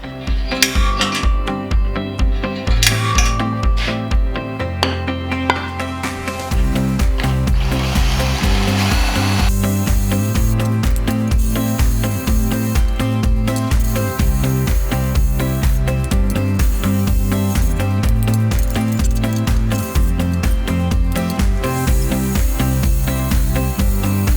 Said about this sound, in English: I'm going to do 2 holes vertically in each corner of the riser